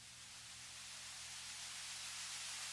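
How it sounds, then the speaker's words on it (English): Panned white noise effect from a tech house production, a steady broadband hiss that swells slowly in loudness over a few seconds, heard alone without voices. "So that one's kind of like a panned white noise."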